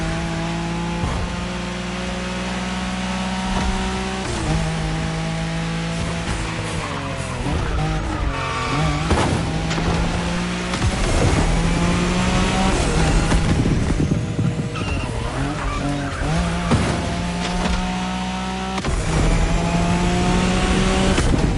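A Nissan Skyline races flat out in a Wangan highway race in The Crew Motorfest, its engine roaring loud and close through repeated gear shifts, with tire squeal and rushing road noise throughout.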